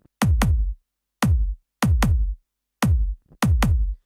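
Deep, punchy garage kick drum hits in a syncopated breakbeat pattern, mostly in quick pairs with short gaps between, played alone and upfront.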